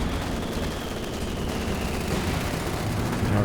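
Incendiary artillery pounding the back lines in the World War II strategy game Company of Heroes 2, a dense rumbling barrage of rapid booms and crackling blasts that rolls on continuously without pause.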